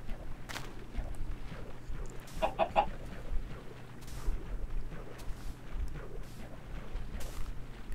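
A chicken in the Minecraft video game clucks in brief bursts over a steady low hum, with a few soft game noises and occasional footstep-like taps scattered through.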